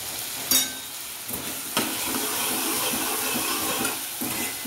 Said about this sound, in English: Now I'm just going to be breaking the arbi up so that it gets nice and crispy